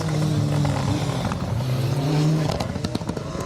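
A white Mark II Ford Escort rally car on blue wheels runs a stage, its engine loud and near with a wavering tone that dips around the middle, then crackles and clatters as it passes.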